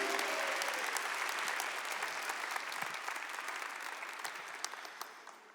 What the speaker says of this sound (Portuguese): Uma salva de palmas para ele, Padre Pio!